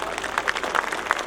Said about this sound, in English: a huge round of applause I want for my small kids